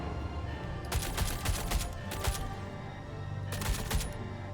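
AK-1 rifle fired in a video game, several rapid automatic bursts of sharp, loud gunshots separated by short pauses, close and clear.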